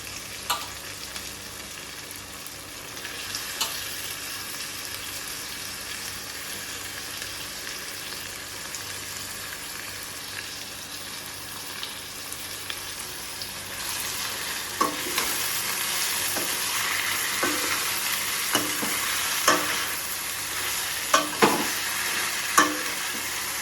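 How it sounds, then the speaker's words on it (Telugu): Onions and tomato frying in oil in a pan, a steady hiss of sizzling with occasional stirring clicks and a louder burst later as leaves go in, heard close with no talk. "ఆనియన్స్ ఇలా ఫ్రై అయ్యి ఆయిల్ పైకి వచ్చిన తర్వాత మెత్తళ్ళు వేసేసుకుందామండి"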